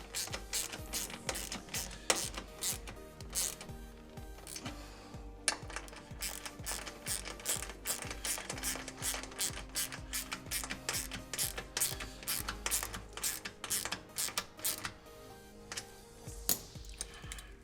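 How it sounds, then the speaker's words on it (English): A ratchet wrench tightening bolts during a car amplifier install, clicking rapidly and continuously up close in steady bursts with brief pauses. "this is all snug, so tighten these down"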